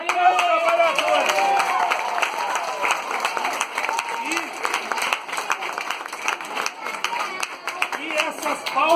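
A crowd claps at a Christmas party at a Brazilian housing occupation in Belo Horizonte, a close, dense patter of many hands with some cheering mixed in, lasting throughout and swelling and easing slightly.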